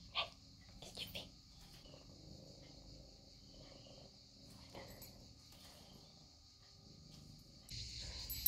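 Cicadas buzz outdoors on a summer day, a faint, continuous high-pitched drone running the whole time, with occasional soft thumps and rustles nearby and a brief voice.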